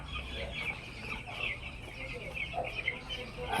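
Ten-day-old broiler chickens clucking in a crowded coop, a dense, continuous chorus of overlapping peeps and clucks close by, with faint talk underneath.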